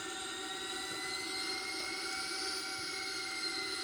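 Airbus A340-311 jet engines roaring in reverse thrust inside the cockpit, a steady loud broadband whine and rumble holding constant throughout with no talk.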